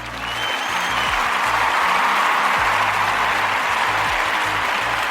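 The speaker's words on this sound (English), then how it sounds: "Yeah, clap that up." An audience at a talk show claps steadily, a dense, sustained wash of applause that fades in quickly and holds for several seconds.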